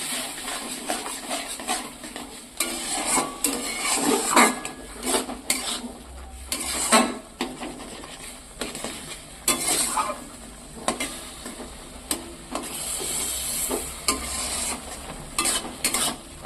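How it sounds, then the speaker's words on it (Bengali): Salted eggplant is stirred in a pan as it dries out, with repeated scraping and clanking strokes of a spatula against metal over a soft, continuous sizzle, the loud strokes coming at irregular intervals. "দিয়েছে বেশ নাড়তে নাড়তে একটু শুকনো শুকনো টাইপের করে নিতে হবে"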